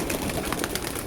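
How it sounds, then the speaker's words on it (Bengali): Domestic pigeons coo softly in a short, low, throaty burble close by, with a faint background hum. "আমার বাড়ির সেরা 2 পিস কবুতর দেখো"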